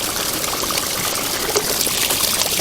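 Water dumping out of a spa heater during a heat exchanger repair, a steady splashing trickle and pour with small irregular spurts, close by and alone.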